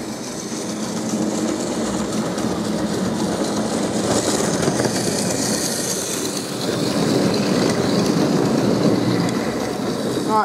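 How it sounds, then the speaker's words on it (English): A small model coal train, a J72, rumbles steadily along its layout track with a continuous clattering hum, close by and fairly loud, without any talking. "Alright, so this is the J72. Coal train."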